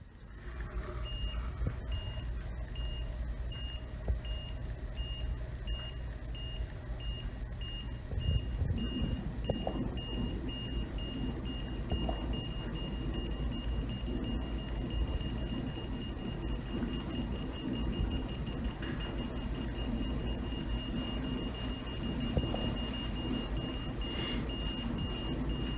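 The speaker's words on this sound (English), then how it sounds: "as I move the object closer to the device, it starts beeping faster and faster" A homemade distance-sensor device gives off a series of short, high electronic beeps over a continuous low mechanical hum, with the beeps clearest at the start.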